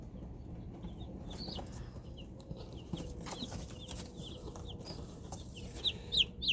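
Young Cornish Cross meat chicks give repeated short high chirps and soft clucks over a constant low background murmur, growing busier and louder toward the end; nobody speaks.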